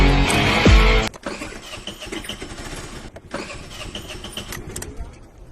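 A car's engine is cranked but fails to catch because it is out of petrol: a loud churning burst for about a second, then a lower, uneven mechanical rumble, with a little talk.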